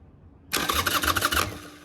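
Starter cranking on a Harley quad with a suspected crank sensor fault, a steady rapid chugging for about a second after a quiet start, close and fairly loud, then cutting off without the engine catching.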